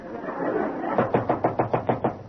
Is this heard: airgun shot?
no